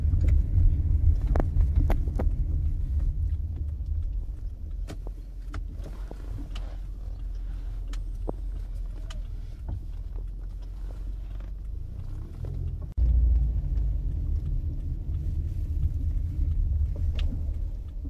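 A car's engine rumbles low and steady during a three-point turn on a driving test, with soft mechanical clicks and a brief surge in revs near the end, no talk heard.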